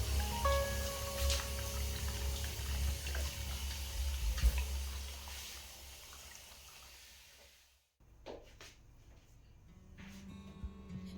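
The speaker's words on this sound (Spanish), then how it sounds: "enjuago todo con agua caliente y seco con cuidado" Hot tap water runs and splashes while a shower or bathroom surface is rinsed, a steady close wash that cuts off, then a few drips and trickles follow.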